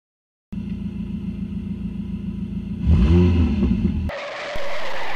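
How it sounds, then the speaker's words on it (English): A car engine drones steadily, then revs hard with rising pitch, and the sound ends in an abrupt burst of broadband noise, as in a crash, with no voices. "After that, he got in a car accident."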